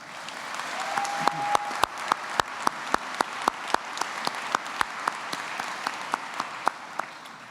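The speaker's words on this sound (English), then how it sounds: "graduates, please show them your appreciation with a round of applause" Graduates at a college commencement ceremony applaud in a broad, steady wash of crowd clapping, with a run of sharp, regular claps standing out near the front throughout.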